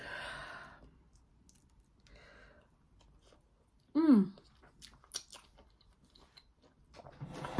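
Someone eating egusi soup with fufu, soft close-up chewing and mouth sounds in quiet room, with a sigh-like exhale and a few light clicks between bites.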